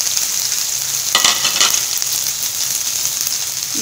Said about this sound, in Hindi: प्याज को 2 मिनट फ्राई किया हमने